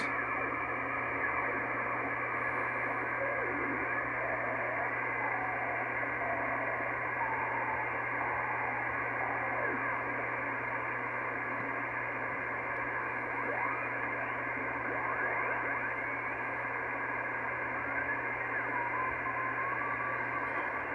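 Steady hiss from an Icom IC-R8500 receiver with the faint wavering beacon tone of the XW-2D amateur satellite on the 2-meter band drifting through the static, continuous and low-level, no voices.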